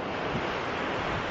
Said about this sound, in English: But it's very windy, so I hope you can hear me okay.